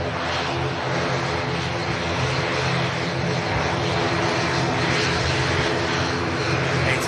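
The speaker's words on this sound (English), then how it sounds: "ATR sounding great" An ATR turboprop at Manchester Airport, its propellers and engines giving a loud, close, steady droning roar with layered tonal hum, sustained for several seconds without interruption.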